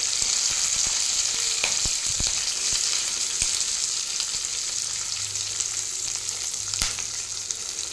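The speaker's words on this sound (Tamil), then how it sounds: "பொன்னிறமாக வணக்கி எடுத்துப்போம். நல்லா வெங்காயம் வணங்கியாச்சு." Onions sauté in hot oil with cumin, dried red chillies and curry leaves for a green gram kadaiyal, giving a steady close sizzle broken by occasional sharp ticks and stirring taps, with no voices.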